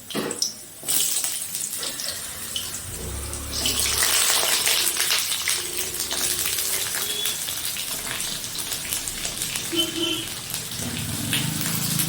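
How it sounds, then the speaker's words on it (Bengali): Potatoes added to hot oil tempered with five-spice, bursting into a loud, dense, hissing sizzle after a brief thump, continuing steadily close up with faint clatter. "এবারে আমি আলুগুলো দিতে শুরু করলাম।"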